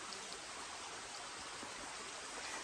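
A mountain creek in Appalachia flows with a dense, unbroken rushing hiss, steady and fairly close throughout, with no voices.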